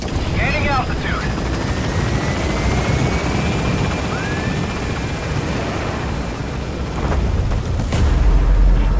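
Pequod helicopter in Metal Gear Solid 5 lifting off and gaining altitude, a loud close steady rotor thump and roar throughout, swelling at the end, with a voice talking over it.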